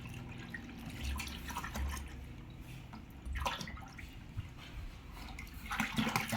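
Bathroom waterproofing liquid is poured out, a faint continuous trickle and splash with a few low knocks, quiet and steady throughout.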